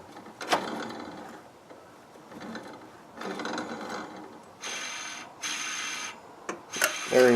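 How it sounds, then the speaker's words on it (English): A table saw motor bearing spins after a spring fell out and nearly tore the motor apart, giving a whirring mechanical rattle in bursts of several seconds with brief clicks between, fairly close. "Bearing runs good"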